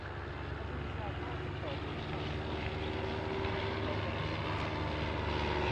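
Auster Autocrat light aircraft droning overhead at moderate distance, a steady propeller-engine hum that slowly swells louder, with someone talking over it.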